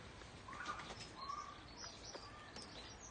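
Small robin chirping in its nest, with soft, faint high chirps scattered over a close, quiet background.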